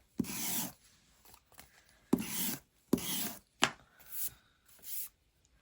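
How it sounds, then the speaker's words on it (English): A sander is rubbed over paper strips for a junk journal craft project, making short close rasping strokes in bursts of about a second, separated by brief pauses. "let's get the sander and just"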